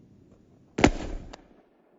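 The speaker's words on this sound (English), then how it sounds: "Redneck golf ball launcher." A homemade golf ball launcher firing outdoors: one sharp, loud blast with a quick whooshing tail that fades within half a second, set against near silence.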